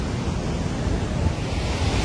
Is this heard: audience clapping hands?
no